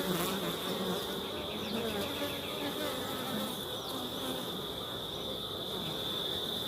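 Honeybees hum at an open hive during an inspection in Jamaica, a steady, dense drone of many insects holding close and even throughout with no speech.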